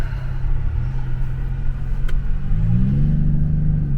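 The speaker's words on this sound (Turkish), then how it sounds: "Araba" A BMW car engine rumbles steadily nearby, with the tone rising slightly as it revs toward the end.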